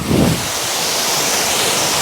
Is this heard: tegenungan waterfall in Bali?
yes